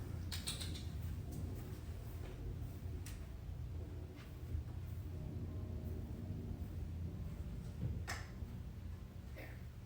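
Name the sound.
back door creaking open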